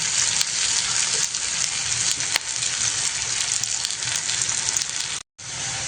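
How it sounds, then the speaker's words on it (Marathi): Onions sautéing in a pan for a Maharashtra-style chicken rassa, a loud continuous crackling sizzle close by with a brief cut near the end. "तुम्ही बघू शकता आता इथे चांगला कांदा परतत आलेला आहे।"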